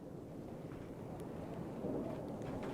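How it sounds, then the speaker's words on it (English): Stormy night in Death Valley, with a dense, steady roar of wind and low rumbling buffeting throughout, no distinct thunderclap standing out and no talk. "Really howling, isn't it? a stormy night."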